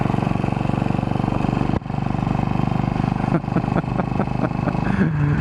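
A Royal Enfield motorcycle engine drones loud and steady while riding, a dense low thrum that briefly dips with a gear change and then carries on, close to the rider.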